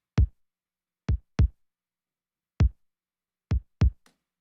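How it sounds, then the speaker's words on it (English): A punchy programmed kick drum sample sounds alone, six dry, tight thumps in an irregular pattern with clean silence between them. "I guess we'll start again with that kick drum."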